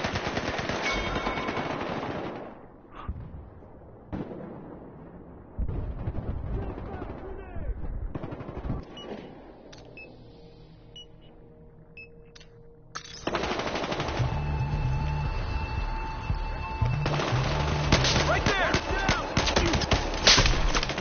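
Gunfire in the Battlefield Hardline video game: loud bursts of automatic fire, a quieter stretch with scattered shots, then sustained heavy firing. Faint voices may be mixed in.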